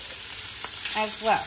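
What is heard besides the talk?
beef searing in a pot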